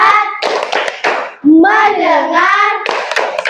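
A class of children at an Islamic school chant the tepuk fokus routine together, their voices rising and falling in unison and broken up by bursts of rhythmic hand clapping, loud and close.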